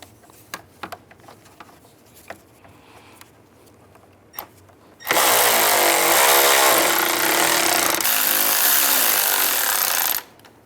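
A power tool, likely an impact driver, runs in one continuous burst of about five seconds while tightening radiator mounting bolts on a 2005-10 Volkswagen Jetta, preceded by quiet clicks and handling noises.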